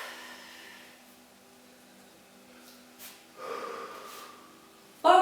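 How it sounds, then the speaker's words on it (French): A person exhales during a Pilates floor exercise, a soft breathy rush of air heard partway through a quiet room, followed by a brief sharper breath near the end. "Soufflez un petit peu."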